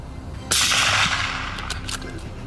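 Hunters fire a barrage at wild boars in a field at night, a sudden loud roar of gunfire that rolls on and fades, with a few sharp cracks trailing off.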